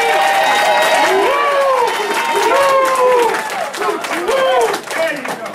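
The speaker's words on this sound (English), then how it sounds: "Give yourselves a round of applause" People at a team meeting clap for themselves, loud and close, while voices shout and talk over the uneven applause, which fades slightly toward the end.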